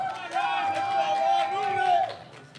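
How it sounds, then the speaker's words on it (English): A crowd at a powerlifting national championship roars and cheers steadily for a lifter, sustained loud voices from many people filling the hall before dropping off, with an announcer's voice over the noise. "The crowd is getting absolutely behind Ron for this attempt. Make some noise for him."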